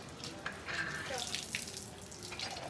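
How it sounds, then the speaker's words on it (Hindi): Water gushing and splashing from a hand pump at an ashram in Haryana, a steady running flow with faint bursts, moderately near and without talk. "वाह देख हैंडपम्प है ये"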